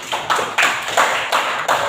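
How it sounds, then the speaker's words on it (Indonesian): Brief applause in a classroom, a handful of separate bursts of clapping from a small group, close and fairly loud, lasting about two seconds. "Tepuk tangan dulu."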